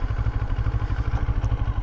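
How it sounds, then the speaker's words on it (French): A CFMOTO 650 NK roadster from 2023, its twin engine pulling in first gear with a steady, rapid low throb, close and fairly loud, with no voices over it. "Je vais vous tester la souplesse du moteur. Donc là je suis en 1"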